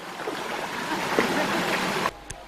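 Water rushing through a stream after heavy overnight rain on a Vila island trail, a steady broad wash for about two seconds that cuts off abruptly near the end.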